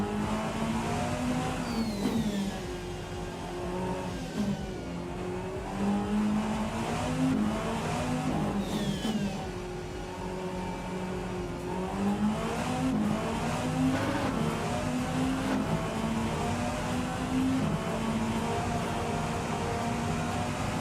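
In the Rennsport racing video game, a race car engine drones continuously up close, climbing and dropping in pitch through repeated gear changes and throttle blips, with faint tire noise underneath and no talking.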